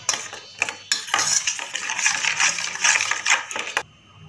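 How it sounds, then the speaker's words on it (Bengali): Spiced fish gravy with chilli powder and slit green chillies for steamed hilsa stirred in a bowl, a utensil scraping and clinking steadily against the sides in close, busy bursts with brief pauses. "এখন আমি মিশ্রণটা ভালো করে মিক্সড করে নেব।"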